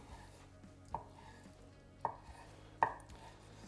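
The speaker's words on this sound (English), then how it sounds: "the slabs of tofu I'll simply cut into battons, once again about 1 centimeter thick" A knife slices slabs of tofu into batons about 1 centimeter thick, with three crisp, separate chops landing on the board at uneven intervals over quiet background.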